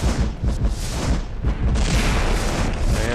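Cube enemies in the VR game Eye of the Tower fire continuously, producing a dense, loud barrage of booming, crackling shots with no pause throughout.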